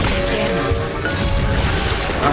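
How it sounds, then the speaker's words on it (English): A booming, crackling burst from a fireworks potion exploding in a Harry Potter video game, dense and loud throughout with rough, rattling texture. "Fireworks potion."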